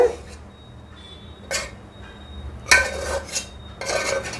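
Cooked rice for mango pulihora is scraped and spooned onto a wide metal plate, with several clinks and scrapes of a utensil against metal dishware at an uneven pace.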